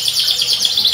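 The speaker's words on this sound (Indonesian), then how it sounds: "ada burung posisi habis mabung, udah gacor kayak gitu" A canary that has just finished moulting sings loudly and close up, a rapid, continuous stream of high trilling chirps and warbles with no voices over it.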